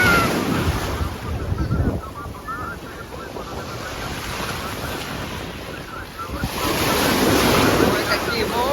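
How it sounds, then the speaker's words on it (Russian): Sea waves surge and break at a beach in Yevpatoria, with wind buffeting the microphone; the roar swells strongly at the start, eases, then builds loud again toward the end, with no speech. "Ой, какие волны."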